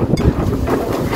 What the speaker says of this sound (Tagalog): bakit daw lumakas ang hangin?